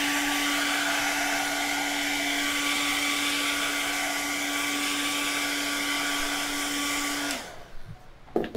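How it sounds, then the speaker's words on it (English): Hair dryer blowing steadily on wet paint for a DIY Halloween sign, a loud continuous whoosh with a constant motor whine that cuts off abruptly near the end, leaving a few quiet handling noises. "I'm going to hit the blow dryer for a second."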